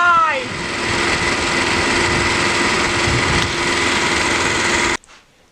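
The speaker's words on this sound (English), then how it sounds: "Now, all the exhaust is going through my CO2 muffler." A small engine runs steadily with its exhaust routed through a homemade CO2 muffler outdoors, giving a loud, even drone that cuts off abruptly near the end.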